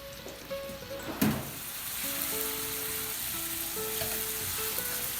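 Meat sizzling in butter and olive oil in a pan, a steady close crackle with a brief sharp burst early on and faint tones over the frying.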